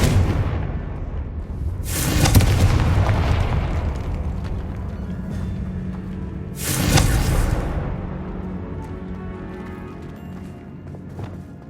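Two booming blasts from the Confringo blasting spell in the video game Hogwarts Legacy, spaced about four and a half seconds apart, each a loud broadband burst fading into a rumbling tail over quieter game ambience.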